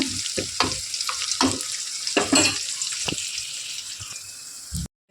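Peanuts frying in a pan, with bursts of sizzling and scraping stirs at an irregular rhythm, close and fairly quiet, cutting off briefly near the end.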